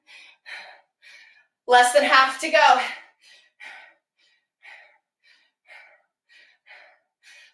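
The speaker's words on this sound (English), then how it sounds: "Breathing a little heavy, hopefully." Heavy, rhythmic breathing during a full-body strength training workout: short, sharp exhales repeat about every half second, close and clear, with one brief spoken phrase near the start.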